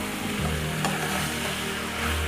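Cauliflower, potato and white vegetables sizzle and fry in ginger garlic paste as a ground tomato and onion paste goes in, with a steady close frying hiss and occasional stirring scrapes.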